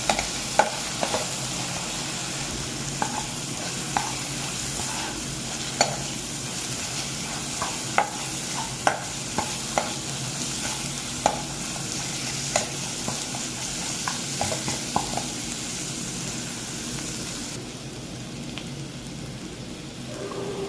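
Salt, turmeric and dry red chilli powder are stir-fried in a pan for a prawn malai curry, making a constant close sizzle with regular clacks from a utensil scraping the pan, with no talking.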